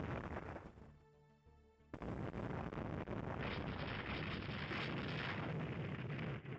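Twelve-inch naval guns fire in the Rule the Waves II naval battle game. A quiet stretch breaks into a sudden loud blast, and a heavy, sustained roaring rumble follows without letting up.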